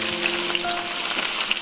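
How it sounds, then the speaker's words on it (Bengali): Vegetables sizzle and fry in a little oil in a wok, a steady close crackle with small pops running through the whole moment, no voices. "এরপর আস্তে আস্তে সব সবজিগুলো আমি ভেজে নেব"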